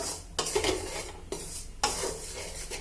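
Semolina sizzles gently in ghee in a pan for coconut laddu, while a spoon stirs and scrapes against the metal in three distinct bursts.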